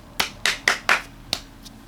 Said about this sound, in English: That's how much applause it gets from me.